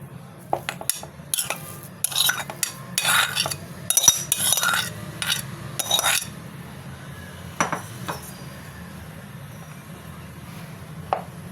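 Boiled potatoes being moved into a second bowl, with metal utensils clinking and scraping against the dishes in bursts of sharp clatter close by, then sparser taps and knocks.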